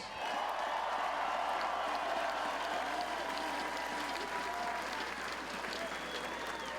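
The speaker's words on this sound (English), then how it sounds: "Let's give them a round of applause" Crowd at an outdoor Stanley Cup championship parade for a hockey team claps and cheers in a broad, steady roar, somewhat distant and lasting several seconds.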